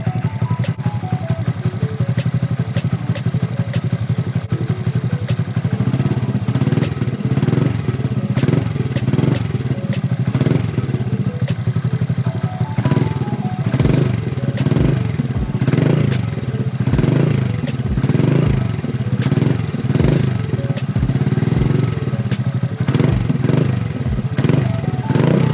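A Honda Grom motorcycle with a custom intake and exhaust tune idles steadily while warming up, a close, continuous low putter with rapid ticking clatter and occasional small blips, running alone with no talk for the whole stretch.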